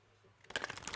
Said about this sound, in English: All right, last shuffle here.